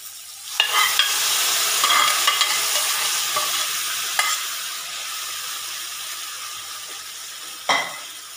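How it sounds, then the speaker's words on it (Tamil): Cooked beef drops into a hot pan with tomato and sizzles steadily while being stirred, a loud continuous frying hiss broken by sharp scraping clatters of the spoon against the pan. "இனி வேக வச்ச பீஃபை இதில் கொட்டிடலாம்."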